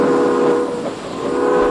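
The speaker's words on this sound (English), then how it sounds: "the articulated locomotive sound was supposed to last longer" Sound of an articulated toy locomotive from a toy train program, a short steady horn-like tone over rail rumble that dips briefly midway, no talking.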